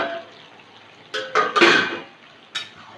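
A metal lid is lifted off a simmering cooking pot, giving a few sharp clanks and scrapes in quick succession, with a single lighter clink a moment later.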